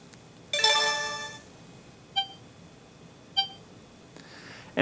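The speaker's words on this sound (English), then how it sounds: "that sound is all coming from my phone here" An iOS or Android phone, used as a remote for a Sony SMP-N200 streaming player, plays an electronic tone, followed by two short beeps spaced about a second apart, then another chime starting at the end; fairly clear and close.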